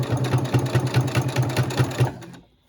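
A sewing machine stitches a fabric tote bag strap in a fast, even run of close mechanical pulses, loud and near, then stops abruptly into quiet.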